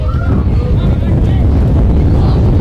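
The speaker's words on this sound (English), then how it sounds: "We're in the grandstand here, and yet we're still getting a bit of wind" Strong, steady wind buffeting the microphone in a grandstand at a country football match, a low rumbling roar that fills the whole clip with no break.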